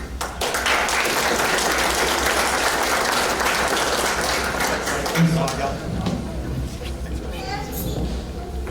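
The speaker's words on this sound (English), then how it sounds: "Another round of applause, ladies and gentlemen, for the guys introducing" A hall-of-fame event audience breaks into sustained applause, a broad wash of clapping that holds steady for several seconds before thinning toward the end, with voices audible underneath.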